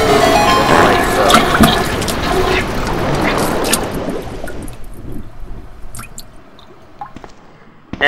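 Water rushing loudly to flood a basement in the video game Resident Evil 2, a gushing splashing torrent that gradually subsides into scattered drips and trickles.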